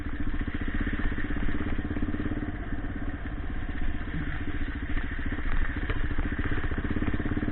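A Yamaha XT600 E single-cylinder motorcycle running while being ridden along a byway, a steady, close thumping engine drone with constant wind and road noise and no talking.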